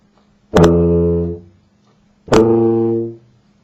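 A tuba sounds two sustained low brass notes, each shaped only by lip buzzing. Both are loud and close, with a clean start, a steady hold and a short fade, separated by silence.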